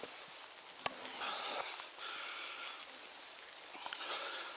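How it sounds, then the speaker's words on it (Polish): Steady rain falls in a forest beside a road during mushroom picking, a soft continuous patter of drops with a few sharper clicks and rustles close by. "A deszcz jak padał, tak pada."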